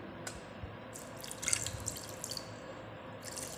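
Rice water is poured into a bowl, a few quiet splashes and drips with a brief louder trickle in the middle, faint against a low room hiss.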